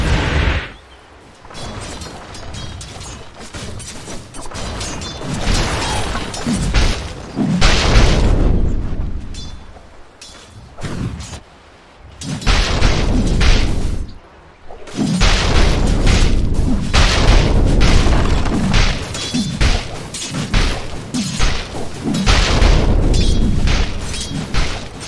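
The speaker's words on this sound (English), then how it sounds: "Dire's top tower is under attack." Repeated heavy booms and crashing blasts from a Dota 2 match as a tower comes under attack. Loud explosions keep bursting in dense clusters, with two short lulls between them.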